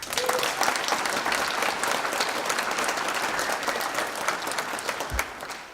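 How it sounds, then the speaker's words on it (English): Audience at a municipal office complex grand opening ceremony applauds steadily, a dense, even wash of clapping from a sizable crowd that continues throughout without talk. "deserves a big round of applause"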